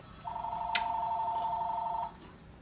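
A mobile phone rings indoors during pizza dough making, one sustained electronic tone lasting about two seconds, fairly clear and close, with no talk over it.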